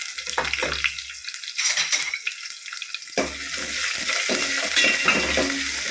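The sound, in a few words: chopped onion sautéing in a pan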